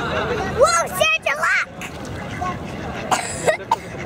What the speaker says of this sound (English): We're feeding the ducks and they're all over the place now.